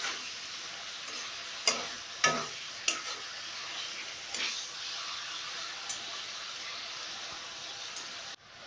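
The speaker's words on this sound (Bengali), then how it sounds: "আমার চিংড়ি মাছটা ভাজা হয়ে গেছে, আমি এবার একটা একটা করে তুলে নেব।" Prawns frying in oil over very low heat in a golmorich chingri dish make a soft, continuous sizzle, broken by a few sharp utensil taps early on, heard alone and fairly quiet.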